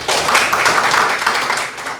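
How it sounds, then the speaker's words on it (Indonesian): Students in a university lecture clapping together for a classmate, a short burst of dense, fairly close applause that holds steady and then tapers off. "semuanya tepuk tangan untuk Kasih."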